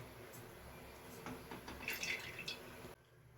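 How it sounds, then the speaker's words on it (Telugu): Oil is poured into a kadai in a home kitchen, a quiet liquid trickle with soft drips that builds briefly and then stops. "కోసం కడాయి పెట్టుకొని అందులో ఆయిల్ అయితే వేద్దాం"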